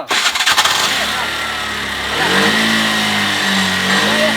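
A car engine starts with a few sharp bursts, then settles into a steady rising rev that holds loud and close; people talk over it.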